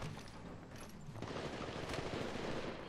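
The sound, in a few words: gunfire in the video game Apex Legends Mobile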